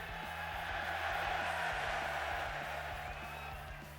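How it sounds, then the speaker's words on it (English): A loud, dense crowd roars and cheers continuously at a UFC 304 press conference for Edwards vs. Muhammad 2, a steady wall of voices with whoops rising above it. "the crowd's that loud, I can't even hear you"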